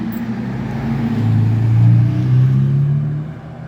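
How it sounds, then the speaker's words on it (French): A Ferrari on a touring car rally drives past, its engine rising as it approaches and swelling to a loud, droning peak before easing off as it moves away, heard on its own with no talking. "les Ferrari sont à peine passés, qu'on a une autre Ferrari qui arrive"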